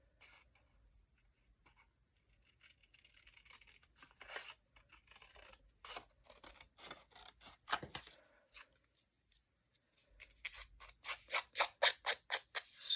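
Scissors snip a piece from a printed image for a mixed media layout, a quiet run of close, crisp cuts that quickens and grows louder toward the end, with no talking.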